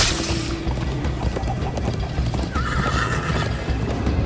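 Hooves clip-clop at a gallop in Minecraft Story Mode while a horse neighs, with a steady rumble of movement underneath; no talking.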